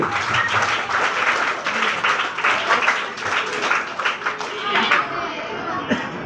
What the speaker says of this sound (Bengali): ওর জন্য খুব জোরে একটা তিন তালি